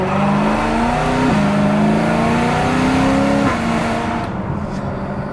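A BMW E92 M3 engine roars loudly and steadily, its pitch climbing in stepped surges as it accelerates through gears, then easing off near the end.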